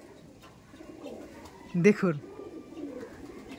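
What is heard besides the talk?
Chennai Madrasi eye pigeon cooing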